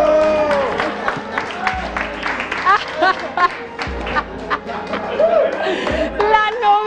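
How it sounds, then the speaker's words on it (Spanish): Wedding guests at a reception dance break into loud applause and cheering, mixed with crowd chatter and shouting voices, sustained and close throughout. "¡Fuerte el aplauso!"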